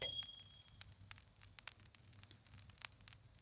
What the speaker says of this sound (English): The fire crackles softly, a small sound, then quiet again.